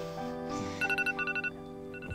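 A mobile phone rings with a bright electronic ringtone, short beeping pulses in a quick repeating pattern over a musical background, close and clear, with no talk during it.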